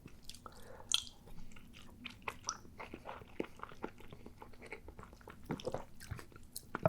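Close-up chewing of spicy miso noodles with egg and raw green onions, wet soft bites and slurps mixed with small crunchy snaps, repeated in an irregular rhythm with a faint steady hum underneath.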